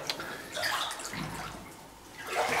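Water sloshing and splashing from wading through knee-deep water in an old flooded bunker, a few short, close splashy surges with brief gurgles.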